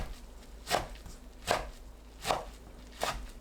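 A knife slices bunched perilla leaves on a cutting board, landing four evenly spaced, crisp chops about three-quarters of a second apart, close and distinct over a quiet background.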